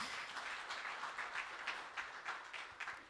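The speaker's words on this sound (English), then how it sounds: "Let's clap hands for WFP" An audience at a World Population Day commemoration claps in a moderate, slightly uneven burst, the individual hand claps audible as a soft patter at some distance.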